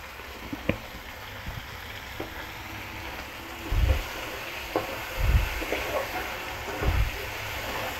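Asafoetida added to dal, tomato and onion sizzling in a hot pan for sambar: a steady soft frying hiss with occasional low stirring thumps and small clinks, close and moderate in volume.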